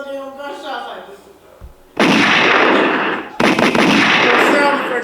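Sharp gunshot-like bursts of sound effects erupt suddenly and loudly, following a stretch of talking, then sustain in dense crackling volleys with a brief break between two bursts.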